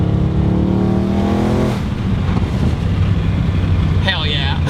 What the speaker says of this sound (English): Golly, that third gear just rips and tears,